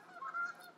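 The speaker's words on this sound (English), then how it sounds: "I don't know if you can hear the geese behind me." Geese honk outdoors, a brief faint nasal call heard from a distance.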